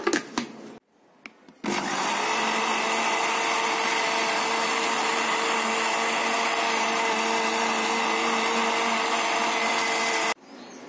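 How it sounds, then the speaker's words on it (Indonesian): An electric blender whirs loudly and steadily for about nine seconds as it purees shallots and bean sprouts, starting after a few brief knocks and cutting off abruptly near the end. "Jadi bawang merah dan togenya tadi itu kita blender sampai benar-benar halus ya kawan-kawan."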